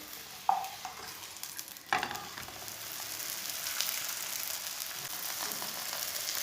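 A jaggery-stuffed paratha frying in oil on a pan, a steady sizzle with a couple of sharp clattering knocks early on as it is flipped, then continuous crackling.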